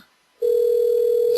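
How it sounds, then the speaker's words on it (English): A telephone line sounds during a cell phone call: after a moment of quiet, a single steady electronic tone starts and holds, loud and close, with no voices. "Is it ringing?"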